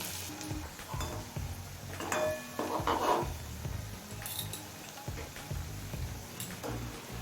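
Fried fenugreek leaf fritters are lifted from the pan into a dish, with light clinks and scrapes of a utensil over a soft background sizzle of oil, fairly quiet and close, without speech.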